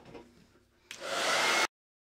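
Hair dryer blows on a wooden board to dry wood stain, switching on abruptly as a loud steady whoosh that runs close for under a second before cutting off sharply.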